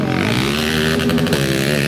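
A motorcycle engine drones loud and close in a steady, buzzing tone that shifts slightly in pitch partway through, with no speech.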